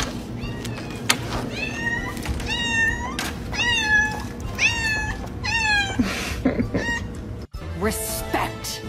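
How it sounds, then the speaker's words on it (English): A house cat meows repeatedly in greeting, a close series of rising and falling calls over steady background noise, with a brief voice near the end. "How my cat greets me when I'm back from work."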